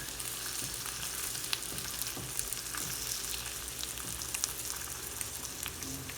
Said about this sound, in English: when the barbecue sauce is in the pot, we have to kind of scrape, you know, the onions and garlic so they don't stick